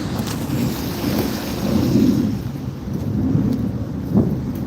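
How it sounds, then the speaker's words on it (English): Gusty wind buffeting a microphone outdoors on a rainy day in New York, a steady low rumble that swells and eases with a sharp thump near the end, no voices. "Fucking wind."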